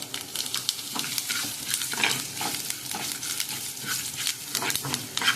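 Curry leaves go into hot oil for a chicken gasi and sizzle with a loud, crackling spatter, mixed with close stirring scrapes throughout.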